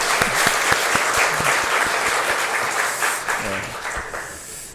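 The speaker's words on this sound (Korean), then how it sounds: "우리 한번 위로와 격려의 박수 한번 하겠습니다." A church congregation claps in a loud, close burst of applause during a Sunday service, a dense patter that gradually thins and fades over about five seconds.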